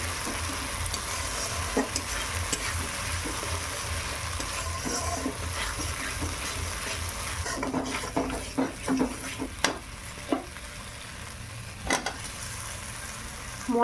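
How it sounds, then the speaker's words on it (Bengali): Cashew and poppy seed paste fries and sizzles in a pan for a vegetarian aloo dum, with a utensil stirring and knocking against the vessel, the scraping growing busier toward the end; close, without talk. "মশলা ভালোভাবে ভাজা হয়ে গেছে"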